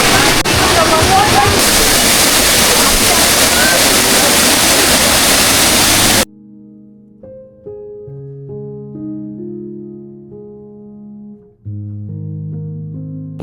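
A 30-foot waterfall near McLeodganj roars as a loud, steady rush of falling water for about six seconds, then cuts abruptly to electronic music.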